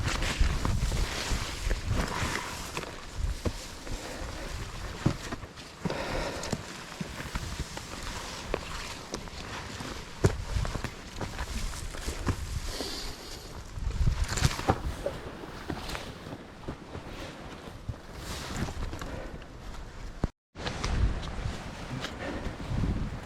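Steady wind buffets and rushes throughout on a rocky mountain climb near the summit, with gusts rising and falling and occasional footsteps or scuffs nearby.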